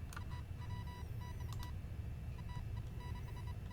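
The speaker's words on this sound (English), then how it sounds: "Oh, there's another message coming in. Did you guys hear it beeping?" Faint short electronic beeps from equipment on a boat signal an incoming message, repeating in small clusters of tones over a steady low engine-like rumble.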